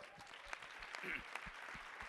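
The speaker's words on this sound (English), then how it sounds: "Give him a round of applause." Audience applause at an expert panel event with business influencers, a dense patter of clapping that stays fairly quiet and even throughout, with no voices over it.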